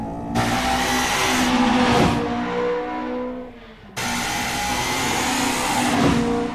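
A tuned car engine in the Initial D anime revs hard and loud, rising and falling in two long sustained pulls with a short drop between them and a sharp restart.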